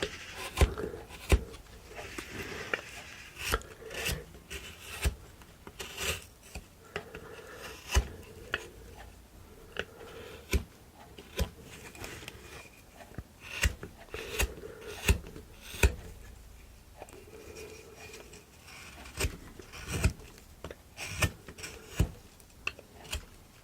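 A knife carving a wooden cowboy figure across the grain, with repeated short scraping cuts and clicks in an irregular rhythm, close and crisp, with quiet gaps between strokes.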